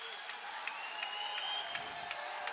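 Crowd at a jiu-jitsu match applauding and cheering from a distance, a steady wash of clapping with scattered shouts, fairly faint.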